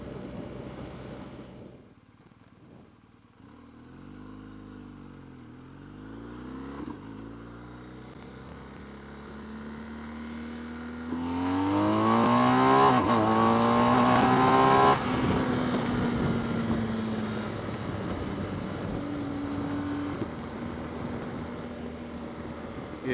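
A BMW R1250GS motorcycle accelerates hard through the gears, engine pitch sweeping upward with each shift and falling back briefly, growing louder and rougher near the end, wind noise throughout.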